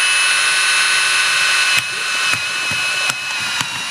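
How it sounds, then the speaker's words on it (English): A power drill bores a drain hole through the end of a plastic cup in a stack, a steady loud motor whine broken by a few sharp bursts as the bit catches and pushes through. "grab a drill, got our stack of cups, and then we're just going to put it right in the end of this one"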